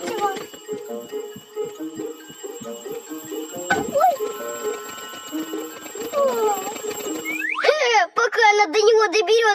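A cartoon alarm clock rings in the Russian animated series Three Cats, with a steady ringing tone under children's cartoon voices and a brief pause before louder, busier sound near the end.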